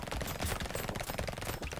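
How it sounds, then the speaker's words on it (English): SMG gunfire in Brotato fires as a rapid, continuous rattle of loud, dense bursts with no pauses across the short stretch. "Oh, that sound of the SMGs"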